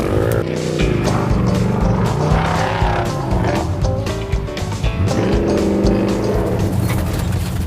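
A 1974 Chevy C10 muscle truck drives through sand, its engine roaring loud and steady with shifting pitch and revs throughout, joined by a busy background of other sounds.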